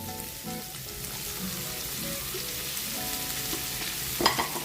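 Tomatoes sauté in a hot pan, giving a continuous close sizzle with intermittent scraping stirs and a sharper clatter near the end; no talking.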